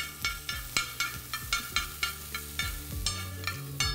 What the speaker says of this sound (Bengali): তারপর এটাকে হালকা একটু ভেজে নিই